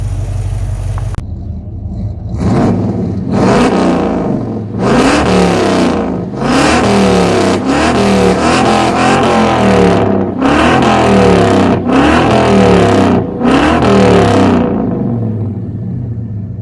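A car engine fires up and is revved repeatedly, about seven loud close bursts climbing in pitch and falling back to idle between them, with no talking.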